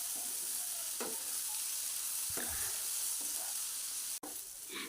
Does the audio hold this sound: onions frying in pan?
yes